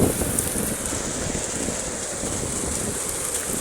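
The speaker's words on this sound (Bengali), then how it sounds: "বৃষ্টির সাথে এই যে অনেক শিলা পড়তেছে, শিলা বৃষ্টি হচ্ছে আজকে তাইবে প্রচুর পরিমাণে" Heavy rain with hailstones falling in Taif, Saudi Arabia: a dense, steady roar of downpour and pelting ice, continuous and loud, with no voices.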